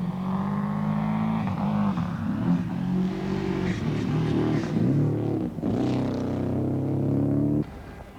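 A struggling 1992 Subaru rally car on a New Zealand stage steadily loses power, its engine droning close by with wavering, uneven revs before the sound drops away near the end.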